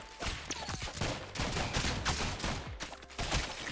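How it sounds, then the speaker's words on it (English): Rapid gunfire from the video game Rounds, dense overlapping shots and sharp cracks repeating through the whole stretch, loud and close with no pause. "Oh, that was a sniper shot."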